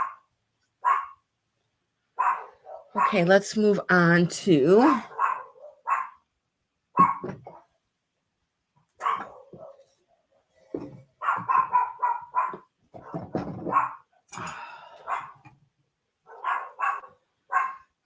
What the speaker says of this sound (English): My neighbor's out there walking with her dogs.